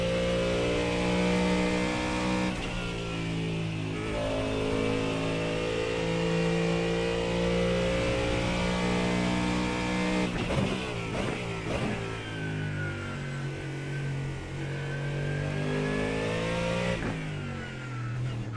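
A Ford Mustang GT races at Silverstone in a racing video game, its engine droning loudly and steadily at high revs, with brief dips and climbs as the gears shift, close and with no talk.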